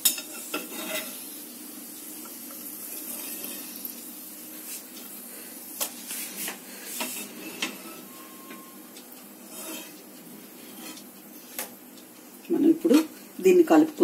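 A spoon stirs fried moong dal mixture with cashews in a pan off the heat, giving a steady soft scraping and rustle with light clinks, under someone speaking Telugu.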